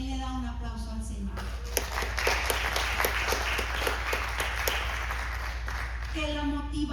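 A church congregation bursts into a few seconds of steady clapping between stretches of a preacher's speech, which can be heard before and after the burst.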